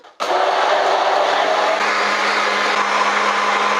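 A small electric mixer beats egg for cordon bleu breading, switching on abruptly with a loud, steady high-pitched whir that runs unbroken for several seconds.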